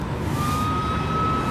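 A police car siren wails loudly and close by, its steady high tone holding for a brief moment over a dense rumble of traffic.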